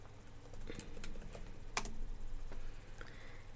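Typing on a computer keyboard during a 3D modelling session: a handful of soft, quiet key clicks spaced irregularly over a low background hum, with no talking.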